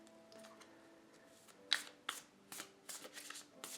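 An Aquarian Tarot deck is shuffled by hand, a soft series of crisp riffling card bursts picking up pace in the second half, close and quiet in an otherwise still room.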